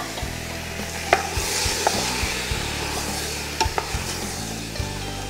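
Pieces of venison going into a pan of sweated vegetables for a civet de chevreuil, a steady close sizzle with a spoon scraping and stirring and a few sharp knocks.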